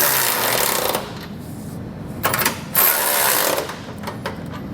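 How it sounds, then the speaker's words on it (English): A 19mm socket on a ratchet snugging down a trailer hitch receiver bolt on a 2018 Chevrolet Traverse frame rail: rapid, close mechanical ratcheting bursts with brief pauses between turns. "Come back with a 19mm or a 3/4 inch socket and snug it down."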